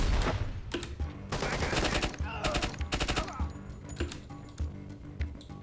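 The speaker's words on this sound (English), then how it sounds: "That machine gun is not very powerful." Bursts of automatic machine gun fire in the tactical shooter game Door Kickers 2, several rapid rattling volleys at close range with short pauses between them, while someone talks over the action.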